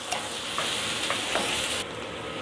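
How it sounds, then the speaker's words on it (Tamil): Chopped small onions (shallots) sauté in hot oil in a pan for bitter gourd thokku, giving a steady, close sizzle with a few faint stirring scrapes throughout. "வெங்காயம் நல்லா வதங்கட்டுங்க."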